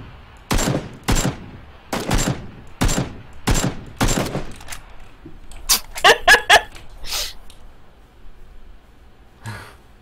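Gunfire in the shooter game PUBG: a run of evenly spaced, loud single shots, then a quicker burst of several rounds and a last distant shot, with a player's breathing and voices in between.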